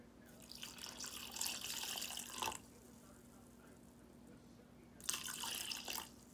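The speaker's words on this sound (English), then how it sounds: "We're going to use 1 cup of the water right now." A cup of water poured into sugar-free keto BBQ sauce, two bursts of splashing, gurgling liquid, one longer and one shorter, separated by a quiet gap with a faint steady hum.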